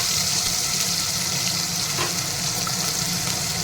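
Chopped onion and cashews frying in hot oil in a pan, with a steady, continuous sizzle throughout, close and fairly loud, and no talk.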